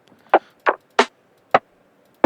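Soft snare drum sample for lo-fi drums, triggered five times alone in near silence with uneven gaps, each hit short, muted and close with little high-end sizzle.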